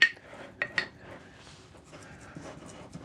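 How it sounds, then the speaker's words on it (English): A spoon tamps a cheesecake base into a small pot: a few sharp clinks and taps of metal against the pot, then quieter soft pressing and scraping. "we can use that spoon again. Just tamp that down into place."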